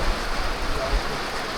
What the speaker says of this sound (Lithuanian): šiandien lyja, vat būtent tik čia, vat būtent šitoj vietoj vat lyja